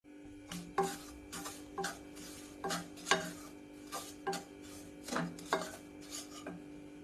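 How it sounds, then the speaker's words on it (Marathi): Dry scraping and rasping strokes of a spoon against a pan as semolina roasts in a little oil, repeating in a loose, regular rhythm, close and fairly quiet, with no talking. "रवा भाजून घ्यायचा आहे आपण आता।"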